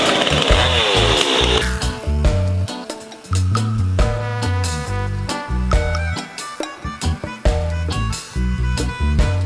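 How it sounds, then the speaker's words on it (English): A power saw trims wooden boards, a loud, continuous whining buzz that drops and rises in pitch as the blade bites and eases through the wood. "Let me trim those boards"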